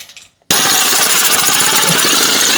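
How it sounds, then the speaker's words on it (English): Power drill boring holes into cement, starting abruptly after a short quiet moment and then grinding on loud and continuous, with a harsh hammering rattle up close. "Now I just got to drill those out."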